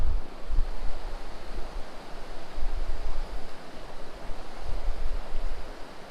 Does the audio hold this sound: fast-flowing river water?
yes